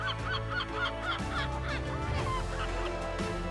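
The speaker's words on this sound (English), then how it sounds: "At Port de Essaouira, the sound of seagulls is ever present." Loud, honking bird calls at the Essaouira fishing port where fishermen unload their catch, overlapping squawks repeating rapidly and close by over a steady low harbour rumble.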